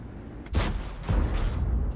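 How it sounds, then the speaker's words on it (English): The FV4202 tank gun firing in World of Tanks, two heavy booming shots about half a second apart with a deep low thump and a decaying rumble, with no talking. "This thing's got a really nice punchy gun, as you can see."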